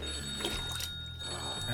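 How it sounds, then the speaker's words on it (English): A telephone ringing, a bright trilling bell ring rising over a low steady background hum, close and fairly loud, with no one speaking. "I was in the process of having my morning dump when my phone rang."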